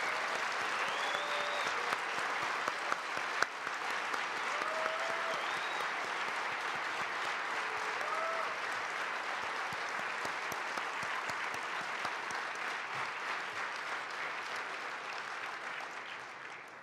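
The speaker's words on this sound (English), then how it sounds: "If you give me a round of applause for all of them," A crowd at an awards ceremony applauds national office staff, with broad, even clapping that holds for a long stretch at moderate distance, a few faint voices rising above it.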